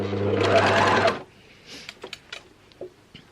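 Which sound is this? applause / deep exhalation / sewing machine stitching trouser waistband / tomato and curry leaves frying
sewing machine stitching trouser waistband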